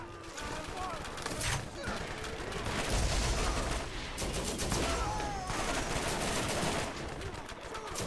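Rapid gunfire from a weapon in the video game Borderlands, sustained bursts of shots layered with game effects and music for several seconds.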